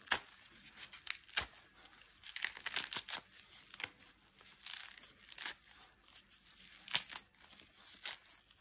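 Fresh lettuce leaves being torn apart by hand into a bowl for a chicken salad, a series of close, quiet crisp rips and crinkles in irregular bursts with pauses between.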